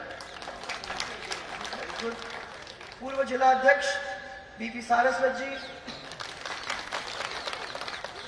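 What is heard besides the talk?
crowd clapping at a political rally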